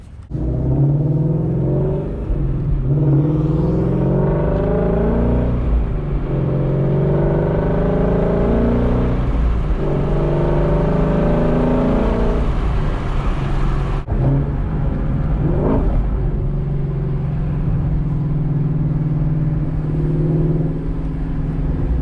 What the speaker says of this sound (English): The Mustang takes these corners like so well.